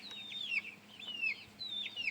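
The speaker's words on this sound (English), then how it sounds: "they're happy little chicks this morning, just so happy." Young chicks in a farmyard clucking and peeping, a series of soft repeated calls in short bursts, close but fairly quiet with no voices over them.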